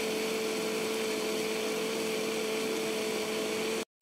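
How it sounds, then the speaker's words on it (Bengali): An electric blender runs steadily, blending coconut with warm water into a paste, giving a constant close motor whir that stops abruptly near the end, with no talk. "এখন এটাকে খুব ভালো করে ব্লেন্ড করতে হবে।"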